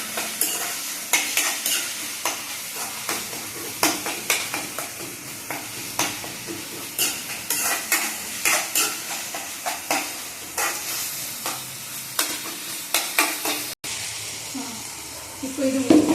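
Turmeric-coated masala sautéing in a pan for potato kara kuzhambu, with a spoon steadily scraping and stirring through a continuous sizzle, in close, repeated strokes for the whole stretch.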